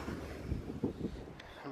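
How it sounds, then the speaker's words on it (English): Outdoor wind buffeting a microphone on a warm, sunny day at a go-karting outing: low, gusty rumbling that swells and dips unevenly over a few seconds, fairly faint, with no clear speech. "It's a bit bloody windy"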